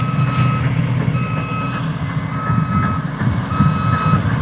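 Steady high reversing beeps sound over the loud, continuous engine rumble of a sugarcane harvester turning and backing up in a cane field during harvest season.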